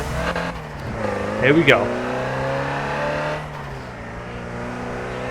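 A racing car engine in a driving video game on the Nürburgring Nordschleife hums steadily, with a brief rising and falling rev burst near the middle. Someone speaks briefly over it.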